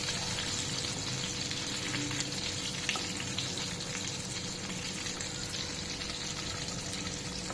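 Stuffed brinjals frying in a pan make a steady, dense sizzle with faint bubbling, close and even throughout, with an occasional light tap.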